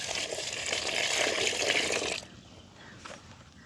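Water gushes steadily while pieces of meat are rinsed, then cuts off abruptly, leaving faint drips and small sloshes in a quiet outdoor village setting.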